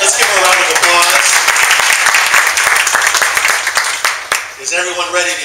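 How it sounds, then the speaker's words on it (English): Audience applause at a morning meeting of a speakers' group in San Jose, steady dense clapping filling the room, with a voice or two and cheers rising over it near the end. "Let's give him a round of applause."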